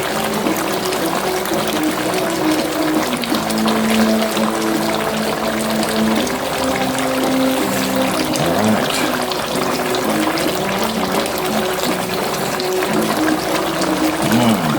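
Jerk sauce pours steadily and gurgles as it fills a container, a continuous close watery flow with a slowly shifting tone.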